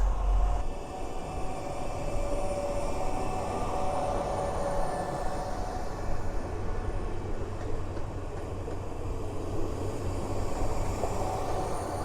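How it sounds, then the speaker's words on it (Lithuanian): A passenger train pulls away onward toward Vilnius on the Vilnius–Szczecin route, giving a steady, fairly loud rolling rumble of wheels and carriages that holds evenly throughout with no talk. "Ir palydėsiu traukinį, kuris važiuoja toliau į Vilnių."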